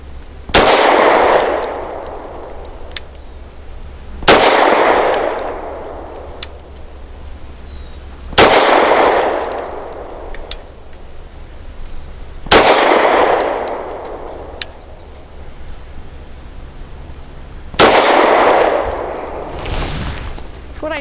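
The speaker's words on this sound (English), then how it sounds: "My turn for 5 shots from 7 yards, also using that Norma Hexagon 124 grain" Five loud gunshots from a SAR USA P8L pistol firing Norma Hexagon 124 grain ammunition at 7 yards, each a sharp crack with a ringing metallic tail, spaced about four seconds apart with no talk.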